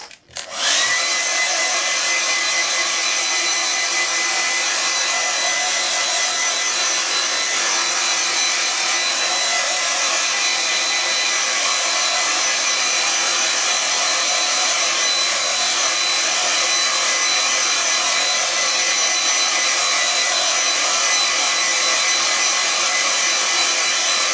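A hair dryer blows on a watercolour sky painting, switching on abruptly and holding a loud, steady, close whirring hiss without a break.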